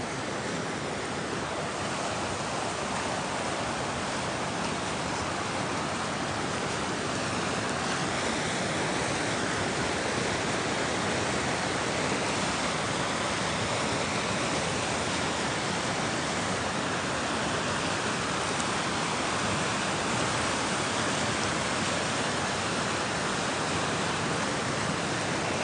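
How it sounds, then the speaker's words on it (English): A raging river at twilight rushes in a steady, loud roar of broadband water noise that stays constant and unbroken for the whole stretch, with no voices over it. "This water is raging."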